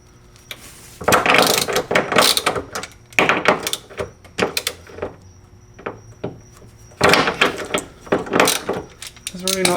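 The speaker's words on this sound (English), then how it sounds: "Now I'm gonna undo the mounting bolts for the bracket." A ratchet undoes the bracket mounting bolts of a caster angle kit on a drift car, giving several loud, close bursts of rapid clicking separated by brief gaps.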